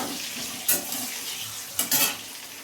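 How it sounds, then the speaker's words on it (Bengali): Continuous sizzle of potatoes with turmeric frying in a pan, with two brief scraping stirs of a utensil. "আলুটাকে একটু লাল লাল করে ভেজে নেবো"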